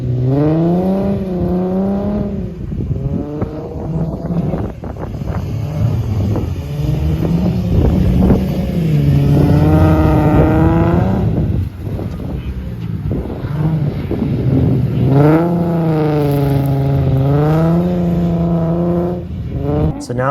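A Nissan G35 drifting at a drift event, its engine revving and rising and falling in pitch through repeated surges. Strong wind noise buffets the microphone, and the car stays fairly close and loud throughout.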